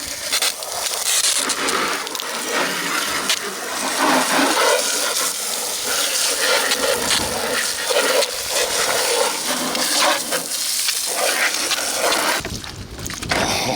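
Water from a private well pump sprays out in a steady, loud rushing hiss that continues without a break.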